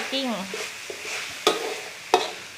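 Minced pork stir-fried dry in a pan, Thai khua kling style, with soft sizzling and two sharp spatula knocks against the pan; a brief voice-like sound comes at the start.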